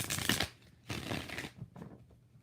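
Tarot cards being shuffled in three short bursts of riffling and sliding, close and fairly loud, with quiet gaps between.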